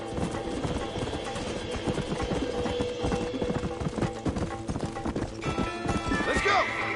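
Rapid hoof clip-clops of horses galloping in Red Dead Redemption, with a neigh near the end over a busy game soundtrack, loud and continuous throughout.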